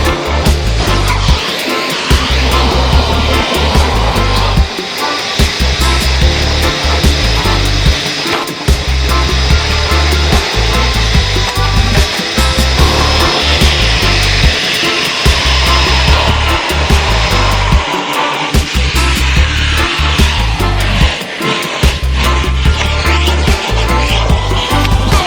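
A vacuum cleaner hoovers out a car's interior during a full detail, a loud, steady, close-up roar that runs without a break, its pitch changing now and then as the nozzle moves over the seats and carpets.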